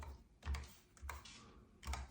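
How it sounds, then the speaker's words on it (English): Fingers type on a computer keyboard while connecting a NUVO MPS4 to a monitor, giving three short soft clusters of key taps, close and quiet. "Then I'd go right here and just type in"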